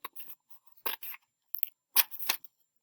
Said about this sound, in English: you take your scissors, and you're going to cut from the back side